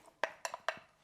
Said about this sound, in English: We're going to stir in our tofu mixture.